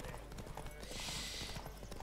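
Horse galloping in the video game The Witcher 3, a steady rapid clip-clop of hooves under a dense layer of game music and rushing wind, continuous and fairly loud throughout.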